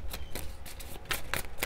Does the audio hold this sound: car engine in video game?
no